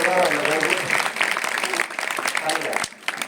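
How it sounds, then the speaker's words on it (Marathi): Audience applause for a group of children at a talk by Mr. Bodhare, a loud, dense wash of clapping throughout with voices mixed in. "आपण ह्या छोट्याच्या मुलांसाठी टाळ्या जोरदार जोरदार"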